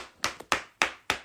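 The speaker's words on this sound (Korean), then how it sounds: "여러분들 진짜 박수 받으셔야 돼요." Five sharp hand claps ring out close up during an Instagram live stream by Lee Young Ji, spaced at a steady, slightly uneven rhythm with no talk around them.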